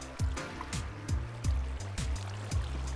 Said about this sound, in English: Where's this water coming from?